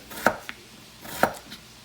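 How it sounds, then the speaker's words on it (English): Knife chopping potatoes into small half-inch cubes on a board, a few crisp separate thuds spaced unevenly across a couple of seconds, close and clear with no speech. "With the potatoes, we're gonna cut these smaller than we do for mashed potatoes."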